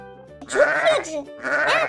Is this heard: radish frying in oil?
no